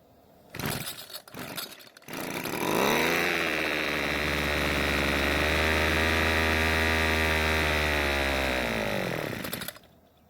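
An old Homelite two-stroke trimmer engine, primed with a little fuel, sputters briefly, then settles into a loud, steady high-revving run for several seconds before cutting out.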